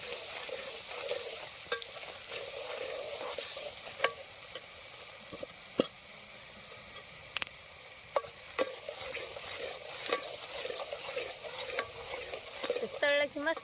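Food fries in a pan with a soft, steady sizzle, interrupted by frequent sharp clicks and scrapes of stirring, quiet and close with no talking.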